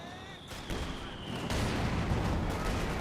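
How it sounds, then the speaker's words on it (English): A Scott's 75mm gun bombarding in the strategy game Company of Heroes 2, with booming impacts and a rising rumble of battle that grows louder and denser toward the end. "Scott here bombarding with its 75mm gun"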